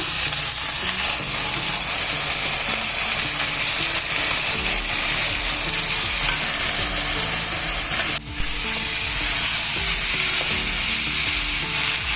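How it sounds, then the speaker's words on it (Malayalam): Ground vindaloo masala paste fries in hot oil in a pan for a spicy Goan chicken vindaloo, making a loud, steady, close sizzle that barely dips once midway, with no voices. "നമുക്കിനി നമ്മൾ അരച്ച് വെച്ചിരിക്കുന്ന വിന്താലു മസാല ഇട്ട് കൊടുക്കാം."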